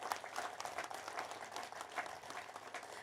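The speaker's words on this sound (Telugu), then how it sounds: "ఎక్సలెంట్, గట్టిగా చప్పట్లు." A seated crowd at a spiritual service gathering claps together, a soft, fairly distant patter of many hands held at an even level for a few seconds.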